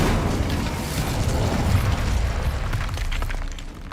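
The Incendio fire spell cast in Hogwarts Legacy: a loud, close, roaring whoosh of flame with a deep boom, sustained for a few seconds before easing off.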